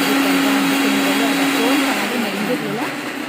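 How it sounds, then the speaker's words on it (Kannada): A mixer grinder whirs loudly and steadily, its motor pitch dipping and wavering as the blades churn a thick almond mixture. "ಅದಕ್ಕೆ ಮಿಕ್ಸಿನ ಸ್ವಲ್ಪ ಜಾಸ್ತಿ ಹೊತ್ತು ನಾನು ಮಾಡಿದೆ"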